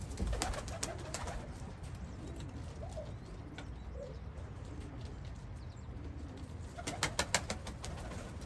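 Soft cooing of Pakistani Highflyer pigeons, low murmuring calls repeating at a distance, with a few louder birdy rustles and chirps near the end.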